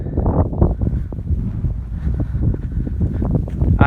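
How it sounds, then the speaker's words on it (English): Strong gusty wind buffeting the microphone on an open, exposed hilltop in the Elan Valley, a loud continuous low roar swelling and easing throughout. "Very windy up here."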